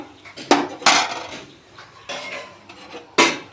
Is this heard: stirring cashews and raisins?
yes